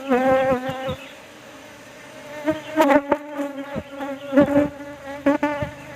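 A swarm of attacking bees buzzes loudly and close, dense overlapping drones rising and falling with sharp bursts of activity.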